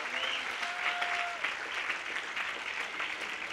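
Steady applause from a church audience during a Marathi sermon, a dense, even wash of many hands clapping at moderate distance, continuing without pause and without speech over it.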